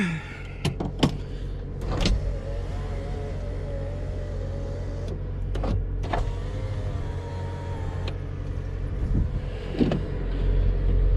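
A Jeep's electric power window runs with a steady motor whine inside the car, punctuated by several sharp clicks and thumps, all close against a low cabin rumble.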